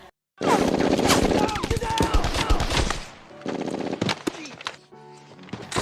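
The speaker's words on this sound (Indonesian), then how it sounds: "Dan pasukan Jerman pun mulai menembakkan senapannya." Dense bursts of gunfire from German troops in a World War II war film, with rapid rattling volleys and scattered single shots, loud and close, broken by brief pauses.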